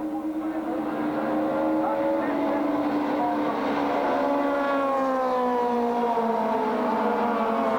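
Audi and Nissan touring race cars in a Procar championship final, racing in the rain: a loud, sustained engine drone rising and falling as the cars pass, with no audible talk.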